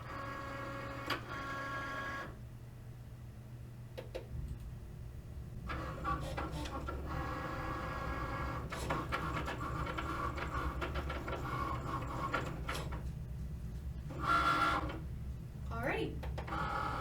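A craft cutting machine works through a sheet of light cardstock loaded on a cutting mat, giving a steady mechanical whir with bursts of motor movement and carriage clicks that run continuously at moderate, close level.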